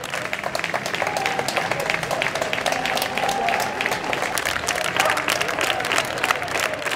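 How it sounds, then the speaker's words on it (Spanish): A crowd gives a final round of applause thanking healthcare workers, a continuous, even clatter of many clapping hands with some crowd noise mixed in, steady throughout seven seconds. "ayer fue el aplauso final que ponía punto final a la convocatoria para agradecer la labor de los profesionales sanitarios"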